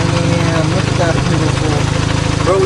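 A Volkswagen Golf GTI Mk7 with an aftermarket turbo intercooler idles with a steady low rumble and rhythmic chug, loud and close throughout.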